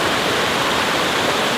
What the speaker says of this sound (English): I love hearing the sound of water like this.